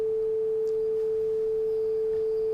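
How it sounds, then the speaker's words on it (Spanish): A generated test tone from an audio test generator plays as one steady, pure, unbroken pitch at constant loudness for the whole stretch, with no voices. "Ahí se está generando un tono."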